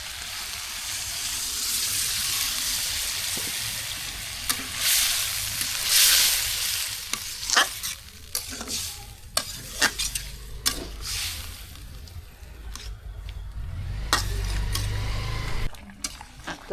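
Village-style curry cooking in a pan, stirred with steady scraping and clinks over a continuous sizzle and a low background hum.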